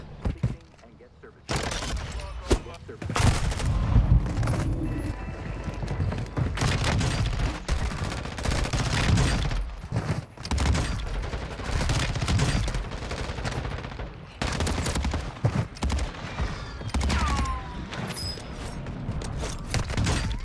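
Warzone 2 gunfire during jump shots: repeated rapid bursts of automatic weapon fire, close and loud, broken by short pauses, with footsteps and movement noise and someone talking over much of it.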